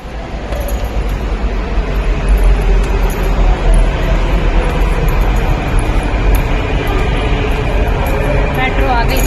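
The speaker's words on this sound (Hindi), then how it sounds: "मेट्रो आ गई।" Metro train pulling into an underground station, a loud continuous rumble and rail roar filling the space, with crowd chatter mixed in throughout.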